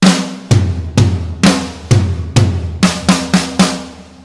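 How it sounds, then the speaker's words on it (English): Drum kit fill from a song played without the bass drum, leaving sharp, close, loud snare and tom hits with small gaps between them and a cymbal-like wash at the end. "Without the bass drum, it would sound like this."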